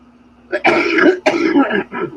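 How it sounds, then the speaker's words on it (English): A short burst of harsh coughing, two or three rough hacks close to the mic, with a throat-clearing quality and brief pauses between them. "If you see me muted, it's because I'm coughing."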